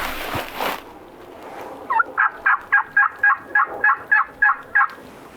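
Wild turkey hens calling in the field: after a brief rustle, a loud run of about ten evenly spaced yelps, close and clear.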